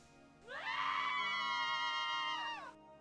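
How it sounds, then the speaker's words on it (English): In the 1992 adventure game The Journeyman Project, a group of voices lets out a sustained, rising-and-falling scream lasting a couple of seconds, fairly clear and alone over quiet background hum. "Not sure why they'd be screaming."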